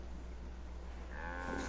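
A cow in the Fallout video game lets out a drawn-out moo that rises near the end, heard over a steady low background hum.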